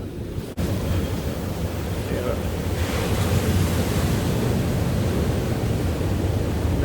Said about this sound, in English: I thought the tide should be going out, but it's just getting rougher and rougher and rougher.